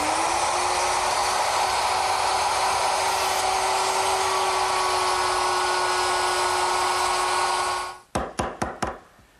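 A power router cuts a dado across wood, guided by a straight edge clamp, sized for a 3/4 inch thick side panel; a steady, close, high whine runs for about eight seconds, then cuts off into a few sharp knocks.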